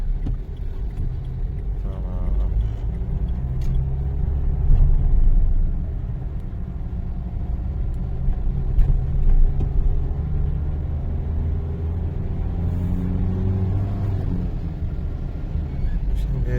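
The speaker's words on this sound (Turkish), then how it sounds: "Bas gaza biraz daha." Car on a driving-exam route with a learner at the wheel: continuous loud engine and road rumble that swells slightly as it gains speed, heard from inside, with a voice talking over it.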